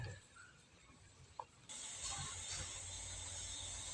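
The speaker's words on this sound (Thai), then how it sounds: "น้ำเดือดแล้วละครับ" Steady hissing roar of water coming to a rolling boil, starting abruptly and holding loud and even, with a faint earlier click.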